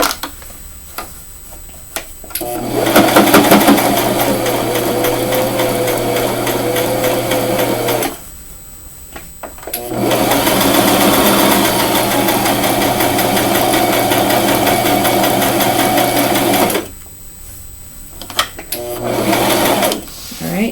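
A sewing machine stitches hems on a pink frock in three long, loud runs of rapid mechanical whirring and ticking, with short quiet pauses between them.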